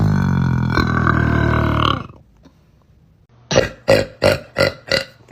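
A person lets out a long, loud, drawn-out burp lasting about two seconds, followed after a pause by a quick rhythmic series of five short bursts.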